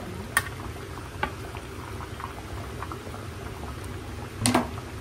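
South Indian river fish curry simmers in a covered pot, giving a steady low bubbling broken by a few sharp clinks and a brief louder clatter near the end; no one speaks.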